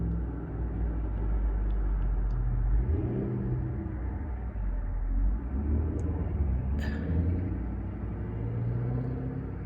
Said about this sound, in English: I've been hearing these, like, really loud, like, motors, like, vroom, vroom, vroom, vroom.